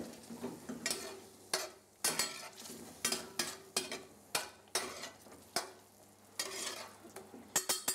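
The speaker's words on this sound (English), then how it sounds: "Let's saute just a little bit." Food sautéing in a pan, a soft sizzle under repeated sharp scrapes and clinks of a utensil stirring against the metal, close and fairly quiet, with no voices.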